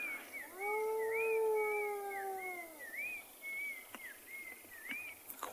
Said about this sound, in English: Look how this hyena puts its head down when it calls.